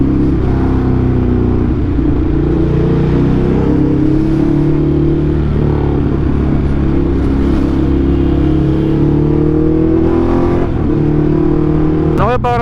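A car fitted with a fresh SC Project exhaust revs loudly and continuously up close, its engine note rising and falling over a steady low drone, with a voice talking over part of it.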